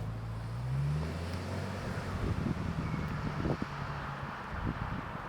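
Interior drone of a 2023 Subaru Outback XT turbo driving at normal pace, a low steady engine and road rumble with wind noise, a brief rising whine near the start, no talk.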